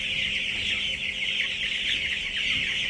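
A flock of chickens being given young barley clucks and chatters continuously, a busy overlapping chorus of close-up poultry calls with no talking.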